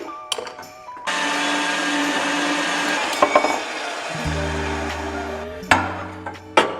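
One-inch ERW steel tube being cut with a power tool: a steady, loud whine and hiss runs for several seconds, then stops, followed by lower droning tones and a few sharp metallic clanks.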